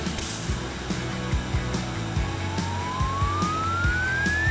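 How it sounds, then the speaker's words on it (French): A vacuum cleaner is used to gather hair into a ponytail, giving a steady droning motor hum with a thin whine that climbs slowly in pitch, heard alone without any voices. "un petit coup d'aspirateur pourrait suffire"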